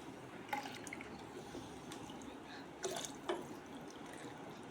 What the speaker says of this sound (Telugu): కొంచెం నీళ్ళు పోసుకుందాం దాంట్లో.